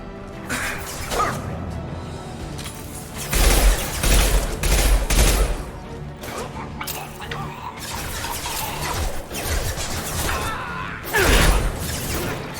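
Rifle fire in the video game Mass Effect 2 rattles in loud bursts of rapid shots amid chaotic combat effects, with a player talking over the action.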